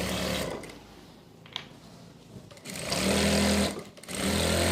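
An electric sewing machine stitches salwar fabric in short runs, its fast mechanical whir starting, pausing briefly, then picking up again louder toward the end.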